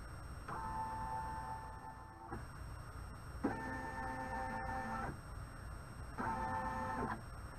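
An embroidery machine moves its hoop to trace the stitch area of a design for a hanging kitchen towel, giving three separate whirring motor runs with short pauses between them, quiet and close.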